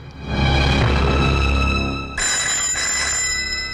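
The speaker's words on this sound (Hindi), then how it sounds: "फोन उठाओ" A telephone rings loud and close in a tense dramatic scene, a continuous electronic bell tone sounding without pause over a low background hum, with no one speaking.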